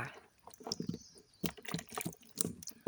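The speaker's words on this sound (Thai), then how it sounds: "เดี๋ยวผมจะเทน้ำใน ชามนี้ ก่อน" Water poured out of a bowl while changing the water for pet fish such as snakeskin gourami, a close splashing and trickling pour in bursts, with dripping between.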